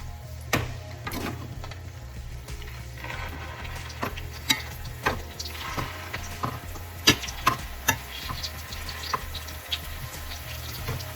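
Green plantains for tostones fry in oil with a low, steady sizzle, punctuated by scattered clicks and knocks of utensils nearby.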